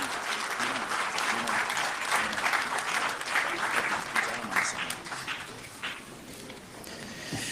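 A crowd claps steadily in sustained applause, dense and fairly close, tapering off slightly toward the end.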